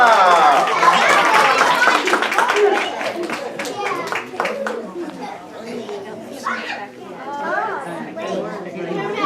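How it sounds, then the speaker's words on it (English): An audience at a comedy magic show claps for the assistant amid lively chatter and children's voices, the clapping strongest early and fading under talk and laughter. "Give Nori a big round of applause."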